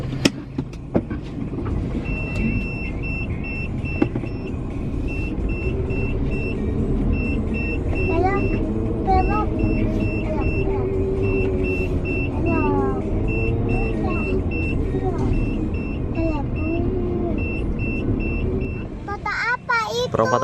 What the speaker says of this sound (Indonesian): Kita parkir mobil dulu.